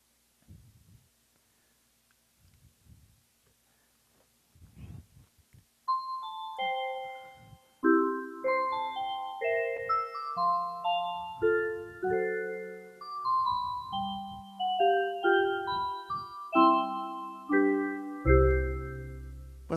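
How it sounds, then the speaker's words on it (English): An Elite EX Holiday Edition electronic instrument plays pretty bell-like tones, with a near-silent opening that gives way to a melody of struck chime notes, each ringing and decaying, growing fuller toward the end. "Wasn't that pretty? Some pretty bell sounds, right?"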